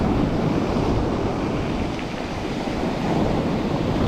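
Strong wind and rough sea current roar steadily during a spinning fishing trip for bluefish, a dense, unbroken rush of wind buffeting the microphone over surging water, with no voices.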